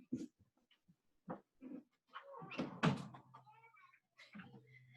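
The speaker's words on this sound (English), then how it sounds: "Okay, I'm gonna lock the door." A door in a family home swings shut and is locked, giving a solid clunk followed by a short latch rattle, with soft scattered movement and faint murmurs around it.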